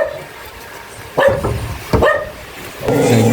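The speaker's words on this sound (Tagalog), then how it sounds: "Kawawa man itong mga aso nasa labas." Dogs bark outside in the rain, a few loud, sharp barks spaced apart with a whimper between them, over constant rain noise.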